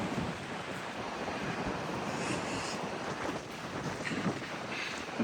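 Ocean waves wash and surge in a continuous, fairly faint roar mixed with wind buffeting the microphone, with no talking during the stretch.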